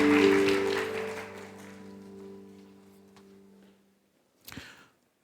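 A church youth group claps together to bless a couple during a Sunday worship service, a dense burst of applause that fades out over several seconds, with sustained keyboard tones ringing underneath.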